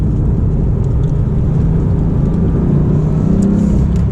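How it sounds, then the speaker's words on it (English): A Porsche 911 of the 991.2 generation downshifting, heard as a steady, loud engine drone with a low rumble that runs throughout, no clear separate blip standing out, and no talking. "Downshift, and that's me downshifting."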